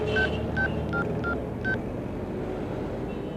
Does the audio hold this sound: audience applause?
no